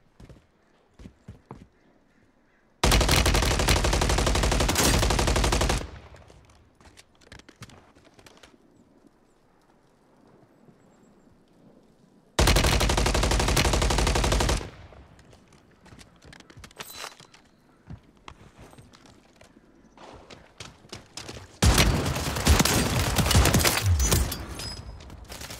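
Shotgun fire in the video game Warzone comes in three long, loud bursts of rapid shots, separated by quieter stretches of clatter and movement.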